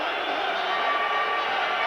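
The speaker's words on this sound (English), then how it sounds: "So a big noisy crowd here." A dense, steady roar from a big football stadium crowd, Club Brugge hosting Rangers in a 1993 Champions League match with Rangers fans present, fills the whole stretch without letting up.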